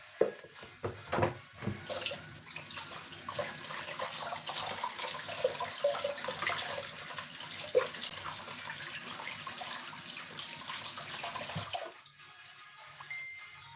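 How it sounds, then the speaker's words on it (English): Water runs from a kitchen tap while hands are washed during home bread baking: a steady, moderately loud splashing rush that lasts about twelve seconds before the tap shuts off. "So now I'm gonna wash my hand now."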